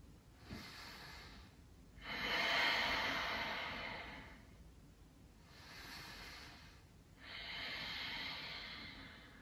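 Slow yoga breathing in a quiet room: four long airy breaths, with the second and fourth exhales louder and fuller, each drawn out over a couple of seconds.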